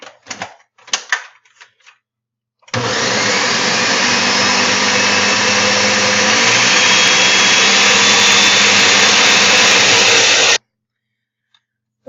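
Kitchen blender spinning a smoothie starts abruptly and runs as a loud, steady motor roar with a whirring, grinding edge for about eight seconds, then cuts off sharply. A few faint clinks come before it.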